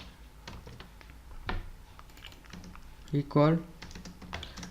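Computer keyboard keys clack steadily at moderate volume while code is typed, continuing under a man's speech.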